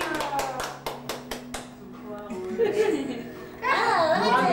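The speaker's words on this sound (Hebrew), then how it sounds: "כפיים." Family members clap for a child's birthday at home, a short run of several sharp claps near the mic with children's voices and chatter mixed in, then livelier voices rising at the end.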